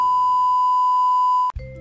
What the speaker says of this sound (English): I've always wanted to hit one of these buzzers